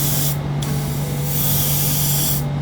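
An Iwata HP-CR3 airbrush fed by a Ustars air compressor, spraying with a loud, steady close hiss over a constant low mechanical hum, with no speech.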